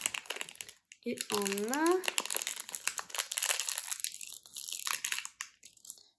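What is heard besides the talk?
crinkly Doorables blind-bag sachets being torn open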